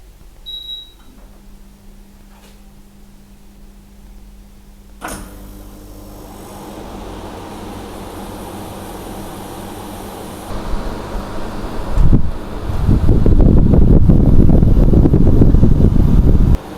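Hisense 8,000 BTU portable air conditioner starting up: a few quiet clicks and beeps, then a steady rush of airflow that swells and grows loud and close as the fan and compressor come on, with a sharp thump near the end.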